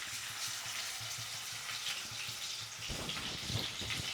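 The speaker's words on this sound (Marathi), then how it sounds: "अद्रक लसूण पेस्ट आहे ते पहिले सुरुवातीला टाकून घेतली. मस्त तेलामध्ये फ्राय करायचे आता." Ginger garlic paste, onion and tomato fry in oil for a Goan green mussel dish, giving a steady close sizzle with soft stirring clicks, then a busier burst of crackling and scraping toward the end.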